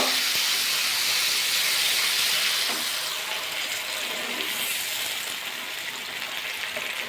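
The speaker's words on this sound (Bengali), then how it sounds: "এবার সামান্য জল দিয়ে দেবো" Water poured into a simmering mixed fruit chutney with raisins hisses and steams loudly, then eases to a softer, steady hiss after a few seconds, with no talking.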